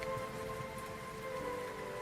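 Steady rain patters through a rainy night near an old inn, a dense, even hiss of drops with faint tonal ambience underneath.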